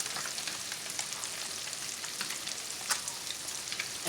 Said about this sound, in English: So now I am just sauteing my fish here.